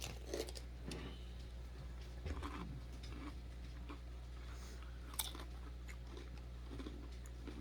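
Someone crunches a Frito Scoops corn chip loaded with Rotel cheese dip, close soft chewing and bites over a steady low room hum.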